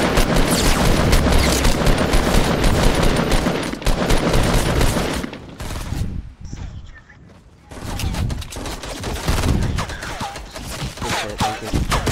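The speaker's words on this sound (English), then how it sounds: "I'm about to launch a nade up in there." Heavy gunfire rattles in dense, overlapping bursts during a Fortnite match, with booming grenade blasts mixed in, fading briefly to a quiet gap before the loud barrage resumes.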